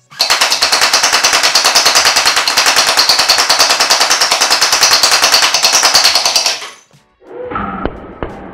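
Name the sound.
MrBeast Gel Fire Nerf blaster firing gel projectiles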